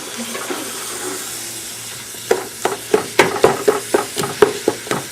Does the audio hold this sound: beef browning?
yes